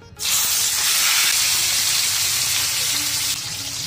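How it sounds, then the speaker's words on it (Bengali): Tilapia fish hits hot oil in a pan on a low-flame stove, bursting into a loud, dense, continuous sizzle up close that holds steady for several seconds before easing. "তেল ভালো করে গরম হওয়ার পরে আমি এখন চুলার আঁচটাকে লো করে দিয়েছি। এখন আমি এর মধ্যে মাছটাকে দিয়ে দিচ্ছি।"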